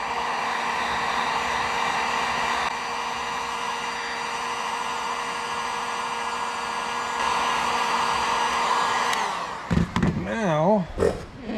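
A heat gun blows a steady, close, loud hiss while warming sheet metal for a new fuel tank on a 1950 Chevrolet Styleline Deluxe, then cuts off near the end, followed by a brief warbling sound.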